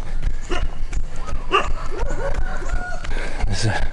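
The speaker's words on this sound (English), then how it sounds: "There's a pack of dogs on the end of this road." A pack of dogs barking on a road in rural Chaiyaphum, several sharp, close barks and yips with some whimpering, mixed with a person's voice.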